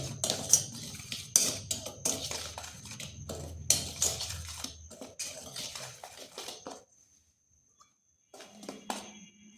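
Spoon scraping and clinking against a bowl while dry flour, rice flour and salt are mixed, busy metallic taps for several seconds, then a near-silent pause and a few final soft scrapes.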